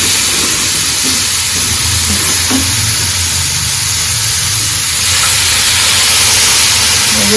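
Loud, continuous steamy hissing and sizzling as water hits a small hot griddle of mushroom masala, rising slightly toward the end, with no voices.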